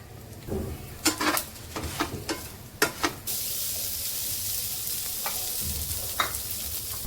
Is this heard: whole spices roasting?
yes